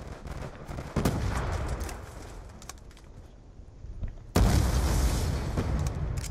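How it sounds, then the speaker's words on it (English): Video game grenade launcher fire, a couple of heavy booming bursts with a sharp loud blast near the end, over rumbling background noise. "And you got a grenade launcher?"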